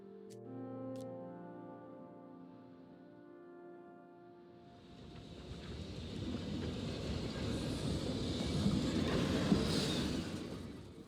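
A train rolling along rails in the puzzle game Gorogoa, rising out of a soft sustained musical passage into a steady, loud rumbling clatter that builds over several seconds.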